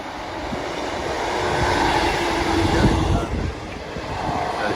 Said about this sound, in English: Right, train's approaching.